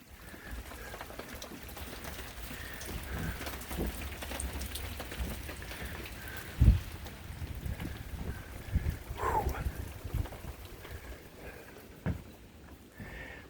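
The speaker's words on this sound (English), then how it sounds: "wet wind blowing in" Wet, gusty wind sweeps steadily past an off-grid cabin ahead of a cold front, a broad rushing hiss with rain-like patter and occasional louder buffets against the microphone, no talking.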